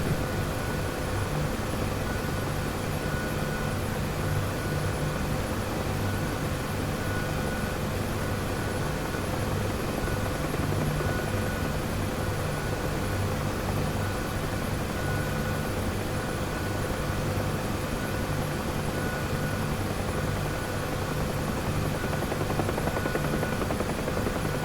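Helicopter flying in the combat flight simulator DCS, a steady, unbroken rotor and turbine drone with a constant whine, heard from inside the cockpit and holding at an even level throughout.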